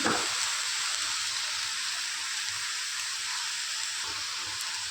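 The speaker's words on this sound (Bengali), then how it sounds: "তো এখন আমি আবার ভালো করে নেড়ে চেড়ে নেব।" Steady, close sizzle of chola sag frying in a pan with turmeric and salt added, a continuous hiss with faint stirring scrapes and no voices.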